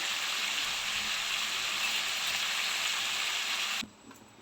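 Vegetables for sambar fry in hot oil with a loud, steady hiss and crackle, close up, before cutting off abruptly near the end.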